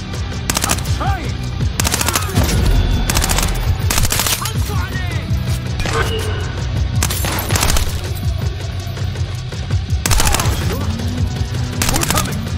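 Loud, rapid bursts of automatic gunfire crackle almost continuously in Tom Clancy's Splinter Cell Blacklist during a mission set in Benghazi, Libya, with heavy shots punching through the dense barrage.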